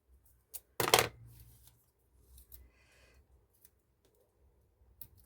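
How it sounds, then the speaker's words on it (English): Scissors cut paper during a bird-themed art project, giving one loud close snip-crunch followed by faint rustling and a few small clicks. "so let's get the scissors and cut these in half."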